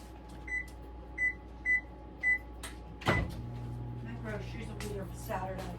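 Several short beeps come first, then a sharp cupboard bang and a run of clattering and rattling as someone digs through kitchen pans for a springform pan.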